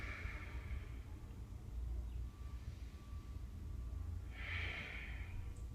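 Slow, deep breathing during a yoga pose for swimmers, with a soft airy exhale near the start and another near the end over a steady low room rumble.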